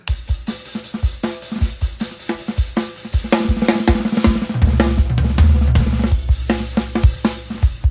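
Loud, hard-hitting rock drum beat, heavily struck with crashing cymbals and a driving steady rhythm, no kick or snare, joined partway through by a deep low rumble.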